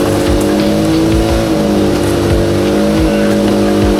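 A Toyota Levin GTZ under restoration revs hard in a loud, close, continuous drone, its engine pitch rising and falling in repeated pulls without any pause.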